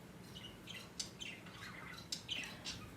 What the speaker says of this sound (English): There's a woodpecker out there.